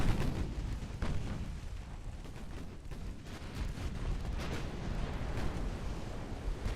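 Battleship main guns booming in Ultimate Admiral Dreadnoughts naval combat, a heavy, rumbling barrage with repeated deep blasts and sustained low roar throughout.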